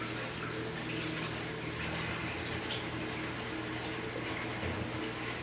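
A kitchen tap runs steadily while vegetables are washed under it, giving a constant close hiss and splash of water with no breaks and no talk.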